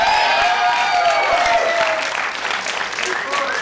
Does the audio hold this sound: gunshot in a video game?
no